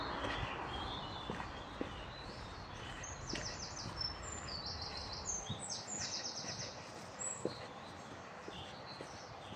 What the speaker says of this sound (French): Là, vous entendez les petits oiseaux et la Moselle passe en bas des arbres ici.